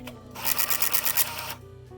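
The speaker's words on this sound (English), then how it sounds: "Print, and yes, the printer does move and makes noises." The built-in printer of an Epson HX-20 portable computer moves and prints, a close, fast run of rattling mechanical chatter lasting about a second amid a quiet background hum.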